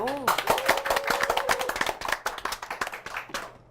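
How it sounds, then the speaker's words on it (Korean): A voice speaks briefly, then a small audience at a book talk claps in a brisk, uneven burst of applause, fading out toward the end. "박수 부탁드리겠습니다"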